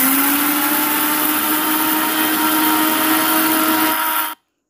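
Kitchen mixer grinder whirring steadily at high speed, blending poppy seeds and green chillies with water into a paste, a loud continuous motor drone with a rising whine that cuts off abruptly near the end.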